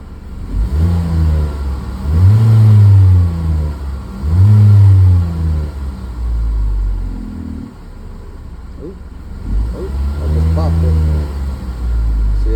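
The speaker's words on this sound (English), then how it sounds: "Gave it some kicks with the throttle." A car engine is revved in repeated throttle kicks while its thermostat is being tested. Close, loud surges climb and fall in roughly two-second bursts, with a longer rev near the end, and someone talks over the engine.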